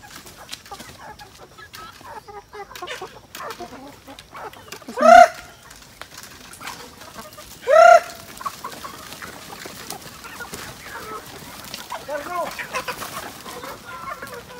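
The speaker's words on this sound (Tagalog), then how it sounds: "Yung sisiw natin, siguro napisa na yung ibang itlog." Hens cluck around a nest of newly hatched chicks on a rural Philippine farm, two loud nearby clucks standing out over faint background rustling and occasional quiet talk.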